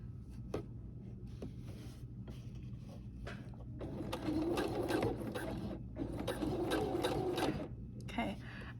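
A sewing machine stitches a crossbody bag, starting with sparse needle taps and then running in rapid whirring bursts broken by brief pauses, close and clear.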